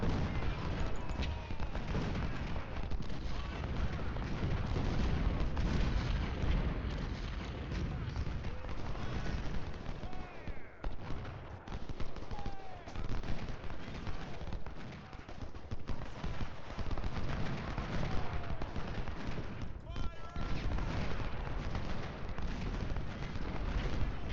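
Artillery and massed gunfire rage on a Bull Run battlefield in Ultimate General: Civil War, a dense, continuous roar of cannon booms and crackling musketry that never lets up.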